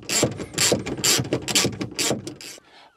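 A ratchet tightening a 12mm bolt on a Nissan Micra K11 rear seat, close, crisp clicking in about six quick back-and-forth strokes, no talk.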